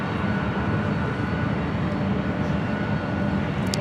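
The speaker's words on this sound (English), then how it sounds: "That is DHL ABX Airflight 105 heading to Phoenix, Arizona. That converted 767-300ER." A converted DHL ABX Air Boeing 767-300ER passes near Los Angeles International Airport, its engines giving a loud, steady, broad roar that holds constant throughout with no voices.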